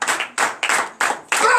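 Congregation clapping in church during a night prayer service in Benin, a few loud, sharp bursts of hand claps in quick rhythmic succession, close by.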